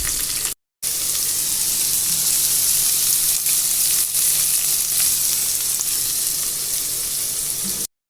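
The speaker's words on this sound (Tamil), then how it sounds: "வெங்காயம் பொன்னிறம் வர அளவுக்கு வதக்கி எடுத்துக்குவோம்." Thinly sliced long onions sauté in hot oil for a Tamil tomato thokku, giving a dense, steady sizzle that holds evenly throughout, broken only by a brief dropout near the start and at the very end.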